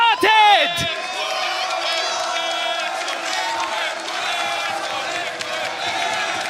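A studio crowd roars at the start of the Team Liquid versus Team Vitality Valorant grand final at VCT EMEA Finals 2025. An excited voice shouts at the start, then sustained cheering and whoops fill the room.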